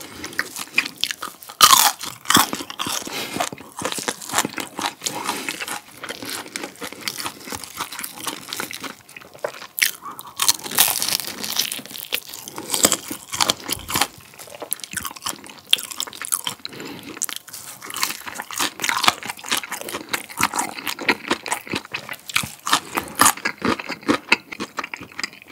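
Loud, close crunching bites and chewing of crispy Goobne mala fried chicken, with irregular crackling bursts repeating steadily throughout, no talking.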